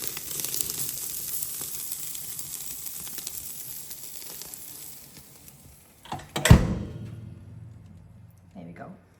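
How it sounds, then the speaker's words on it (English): Mustard seeds crackling and popping in a hot pan on a wood-burning stove, a steady fine sizzle running throughout with a sharper burst of hiss near the end, then quieter spitting. "I can actually hear those mustard seeds popping"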